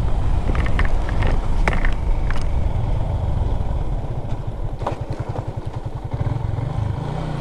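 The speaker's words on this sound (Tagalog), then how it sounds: "Pangit talaga ng motor ko, naglalagatok." Motorcycle engine rattling and clattering over a rough road on a ride from Rapu-Rapu, Albay in Bicol, a steady loud drone with knocking from the front end and faster rhythmic rattles toward the end.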